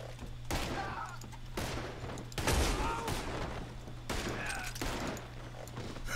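Gunfire in the Western video game Red Dead Online: several loud, sharp shots and short bursts crack out at irregular intervals over a steady low hum of game ambience.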